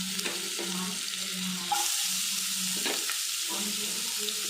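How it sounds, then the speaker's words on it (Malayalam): Onion, green chili and ginger frying in hot coconut oil: a steady, fairly soft sizzle close by, with occasional knocks of a spoon stirring the pan. "വെളിച്ചെണ്ണ ചൂടായിട്ട് നമുക്ക് എടുത്ത് വെച്ചേക്കണ സവോള, പച്ചമുളക്, ഇഞ്ചി ഇത് 3 ഇതിലേക്ക് ഇട്ട് കൊടുക്കാം"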